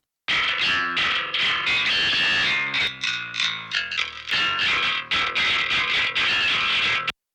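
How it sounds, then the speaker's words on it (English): A bass guitar heavily distorted through the SansAmp PSA-1 plugin in Pro Tools plays a gritty, buzzing riff with sustained notes and brief pauses, loud and dry, with no voices. "Next is the distortion itself, which is another free plugin that comes with Pro Tools."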